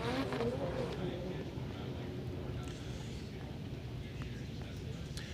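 Ken Gushi's Toyota Racing Toyota 86 drift car on Greddy Performance Falcon tires makes a qualifying run at a Texas event, its engine a steady, distant roar. Commentators talk over it throughout.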